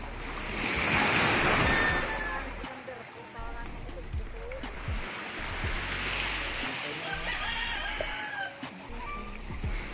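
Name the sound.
strong ocean waves on the shore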